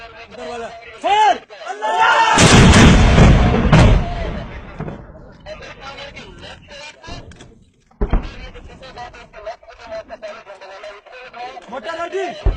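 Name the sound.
army mortar being fired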